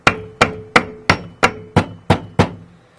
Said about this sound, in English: just get the hammer and just give it a couple whacks